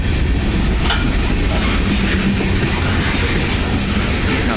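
Loud, continuous rumbling and rattling of a CSX freight train passing close by in Skillman, New Jersey, a steady heavy roar without pauses.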